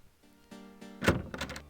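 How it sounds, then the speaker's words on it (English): A door bar being lifted and bolts unlocked on the far side of a door in Quest for Glory IV: a few soft clicks and scrapes, then a louder wooden thunk and clatter near the end, heard alone. "you hear someone removing the bar and unlocking the bolts on the other side of the door"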